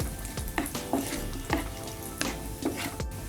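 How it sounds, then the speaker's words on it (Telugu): Raisins frying in ghee in a pan, a soft continuous sizzle with bubbling crackle and a few sharper pops and stirring scrapes, close up with no voices. "దీనిలోనే మనం కిస్మిస్ని కూడా వేసి వేయించుకుందాం."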